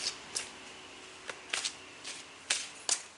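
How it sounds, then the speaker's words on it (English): Several quick papery riffles of tarot cards being shuffled, in short separate bursts with brief pauses between, close and fairly soft. "Let's give these cards a couple of more shuffles."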